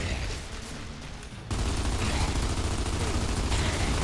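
Sustained gunfire from the video game Gears of War 2, a dense continuous volley that jumps louder partway through and keeps firing steadily to the end with no talking.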